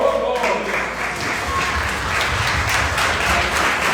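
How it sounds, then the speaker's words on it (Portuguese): Congregation applauding during a church worship service, a steady wash of clapping that holds for several seconds, with speech faintly present underneath. "Glória a Deus, aplaude o Senhor."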